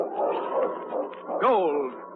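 Yukon King, a husky sled dog in an old radio drama, gives a short whimpering yelp and bark, up close and clear, following a brief stretch of background sound.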